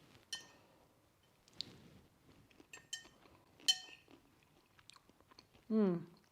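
Quiet, close chewing of black rice and sweet potato topped with seeds, with a few soft crunches and the clink of a utensil, and a brief voiced murmur near the end.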